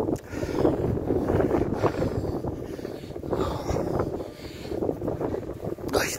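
Cold wind gusting across the open rocky hilltop at Harborough Rocks, a loud, continuous rumbling buffet on the microphone that swells and eases in gusts, with no voices.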